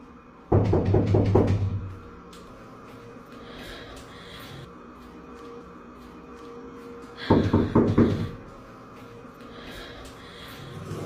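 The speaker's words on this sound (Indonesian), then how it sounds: "diganggu oleh adanya suara ketukan pintu yang terdengar berkali-kali" Repeated knocking on a door, two sharp bursts of several quick raps separated by a quiet pause, fairly close.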